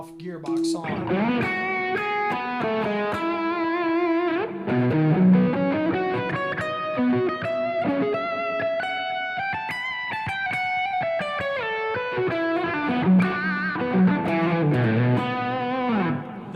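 An electric guitar plays a long, fluid run of overdriven lead lines through a Gearbox pedal with the Dirt Dog switched off. Notes flow rapidly and sustain, loud and up front throughout.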